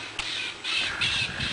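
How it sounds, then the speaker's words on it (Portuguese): A parakeet calls in a rural Brazilian chacara, giving a few loud, harsh squawks in quick succession against faint background sound. "Periquito."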